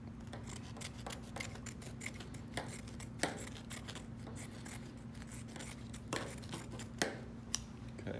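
Scissors cut canvas around a stretcher frame, giving a run of quiet, close snipping and crisp slicing sounds over a low background hum.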